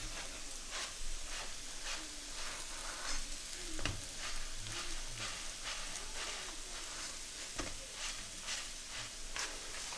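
Aloo tikki fry on a flat pan at a Lahore street food stall, a steady soft sizzle with scattered crackles and a couple of sharper scrapes or taps, no talk.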